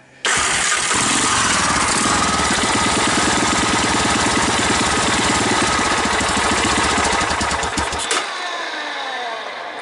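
A small ATV engine with a worn starter cranks with a clanging rattle, then catches and runs loud and steady for several seconds before dropping off near the end, close up.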